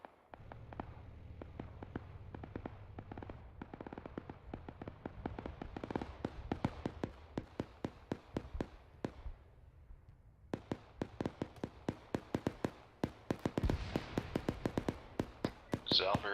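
Far-off gunfire in a military shooter game, heard as a long string of sharp, evenly spaced cracks and short bursts under squad radio talk.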